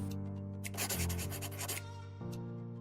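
Pencil writing on paper, a short burst of scratchy rubbing strokes over a steady hum, faint and close.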